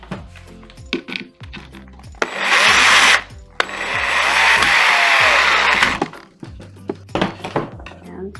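A power drill drives a screw into a wood board clamped against a table, with two loud sustained whirring bursts of about one and two-and-a-half seconds, separated by clatter and knocks, while a person talks.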